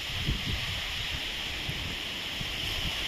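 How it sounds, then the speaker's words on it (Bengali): A constant, dense rush of rain and wind from Cyclone Remal near landfall, with low gusts buffeting the microphone throughout. "প্রচুর বৃষ্টি হচ্ছে, তার সাথে হাওয়া দিচ্ছে।"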